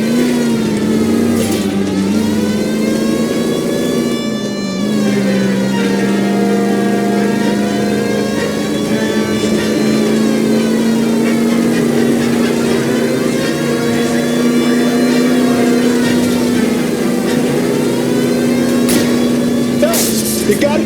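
A car engine revs and drones steadily during a chase in the video game LA Noire, a close, sustained roar rising and falling in pitch, with voices talking over it.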